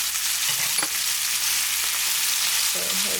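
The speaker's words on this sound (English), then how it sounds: "So next we're going to go ahead and add our ground beef. We want to cook this down now." Ground beef frying with onion and tomato in a pan, a loud, dense sizzle filling the whole moment, with a couple of brief utensil knocks and stirring touches up close.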